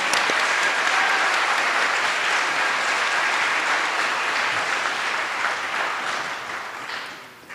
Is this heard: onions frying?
no